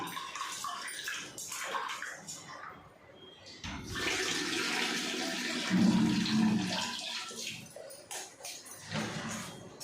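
Rice being washed: water splashes and swishes in a container, with a steady pouring, running stream building in the middle before easing off.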